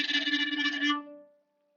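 Bowed string instrument playing a very fast bow tremolo right at the point, a quick shimmering flutter on one written note lasting about a second before it stops and a faint tone rings away.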